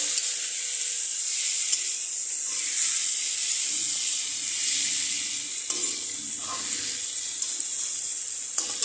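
Fish heads sizzle and hiss in hot oil in a frying pan with vegetables, cooked for methi saak, as they are stirred. A steady, loud frying crackle runs throughout, with occasional soft scraping and clicks from the stirring.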